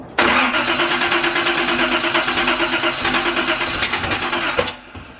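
A custom Datsun 280ZX engine being cranked, a loud, close, continuous rapid churning of the starter that runs for several seconds and then cuts off abruptly.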